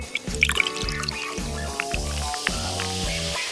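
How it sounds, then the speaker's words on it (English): Soda pours into a laboratory flask, a close, continuous glugging trickle with rhythmic bubbling pulses repeating steadily throughout. "Pour some soda into a laboratory flask."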